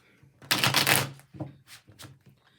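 Tarot cards are riffled and shuffled in a quick burst of crisp fluttering, followed by a few softer taps and slides of the deck.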